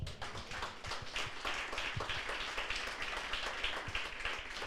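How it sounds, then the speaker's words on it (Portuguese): A church congregation applauding, a dense, steady patter of many hands clapping at moderate distance, fairly quiet and continuous throughout. "Aplauda Jesus."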